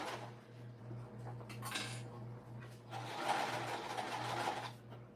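A domestic sewing machine stitches an Addy crossbody bag, quiet and close, with a low steady motor hum and a softer whirring run of stitching near the end.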